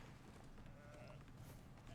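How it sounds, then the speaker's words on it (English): A sheep mount ridden by the hero Anduin bleats in a video game, faint and low in the mix under a dense, steady wash of game and crowd noise. "Just hearing that sheep that Anduin is riding is cracking me up"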